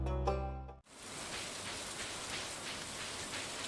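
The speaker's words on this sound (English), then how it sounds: "The raindrops are really loud on the metal roof of our trailer." Raindrops drum steadily on the metal roof of a trailer on a rainy day in Stardew Valley, a dense even hiss that follows a short musical phrase and then carries on alone.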